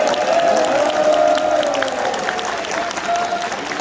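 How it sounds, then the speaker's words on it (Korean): A large crowd at a People Power Party member convention gives loud, dense, sustained applause that fills the hall, with a faint tonal hum running through it. "자, 박수 한번 부탁드립니다."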